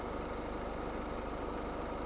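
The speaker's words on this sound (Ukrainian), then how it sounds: "Зверніть увагу, автомобіль працює рівненько" A 2014 Renault Koleos 2.0 diesel engine idling steadily at close range, a continuous even rumble with a regular low throb and no voices.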